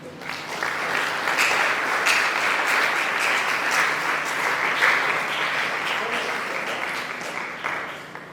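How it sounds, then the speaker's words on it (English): Audience applause for a senior colleague at a community climate change adaptation engagement event, a dense, steady wash of many hands clapping that holds loud for several seconds and tapers slightly at the end. "Can we clap for him?"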